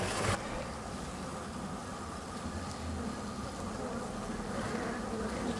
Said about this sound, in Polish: pszczoły tak się wkurzyły, że aż się schowały przed ulem